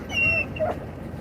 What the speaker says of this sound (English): You need to get the dogs out of here.